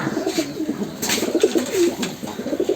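Pigeons at a pigeon farm coo softly and repeatedly, with several low throaty calls overlapping at close range and no talking.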